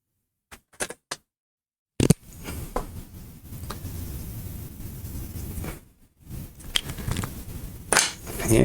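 Writing is erased from a board, with a few short taps followed by a sustained, close scrubbing swish that stops briefly and then resumes at a similar level, heard alone with no talking.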